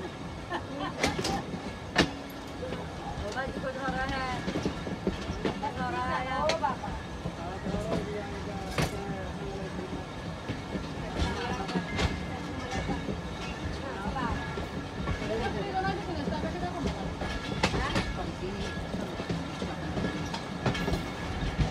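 The Pakistan Express runs on rails between Wazirabad and Faisalabad, heard from an economy-class carriage as a continuous rumble with rhythmic clickety-clack wheel beats and rattles, while voices talk underneath.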